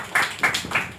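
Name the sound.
audience clapping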